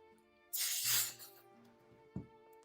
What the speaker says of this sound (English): We're going to spray some adhesive up here.